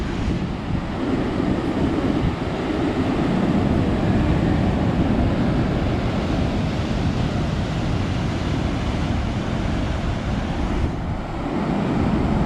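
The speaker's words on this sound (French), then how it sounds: "Oh les vagues." Waves roar and wash continuously on the Brittany coast after a storm, with strong wind buffeting the microphone throughout.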